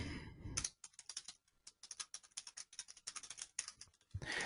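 Rapid typing on a computer keyboard, a close, steady run of key clicks with brief pauses, entering a short slogan line on a website builder.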